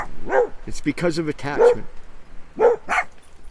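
A dog barks in a few yapping bursts close by, mixed in with a person talking over it.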